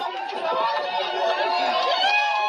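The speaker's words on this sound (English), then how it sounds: "Everyone's cheering for him." A crowd cheers and shouts together in a dense, continuous roar of many overlapping voices that stays steady and fairly loud throughout, with excited chatter mixed in.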